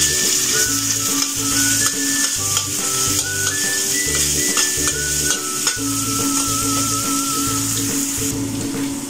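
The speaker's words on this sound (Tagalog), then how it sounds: "So, igisan lang natin ang shallot saka garlic." Shallot and garlic being sautéed in a pan for Cantonese stir-fried rice noodles, a steady loud sizzle with repeated rhythmic scraping and stirring strokes, plus running-water sounds in the kitchen background.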